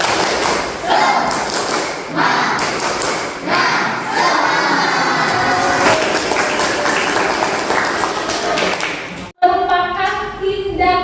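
A classroom of high school students performs the tepuk semangat clapping chant during a sociology lesson, loud rhythmic group claps and thumps with shouting voices, ending abruptly before a brief burst of speech.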